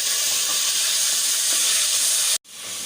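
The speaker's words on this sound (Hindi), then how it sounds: "अब मैं डाल रही हूँ इसके अंदर लहसुन पिसा हुआ।" Ground garlic hitting hot ghee in a pan releases a loud, steady broadband hiss and sizzle up close, which cuts off abruptly near the end and then rises back more softly.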